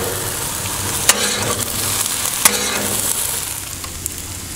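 Fried rice with tomato sizzles loudly on an outdoor flat top griddle, a steady close crackle broken by a few sharp metal spatula clanks.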